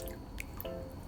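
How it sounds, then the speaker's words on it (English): Boiled potatoes dropped into a bowl of ice-cold water make a few close, small drips and wet plops over a constant background hiss, with no talk. "we're going to immerse those potatoes in the ice cold water to stop them from cooking"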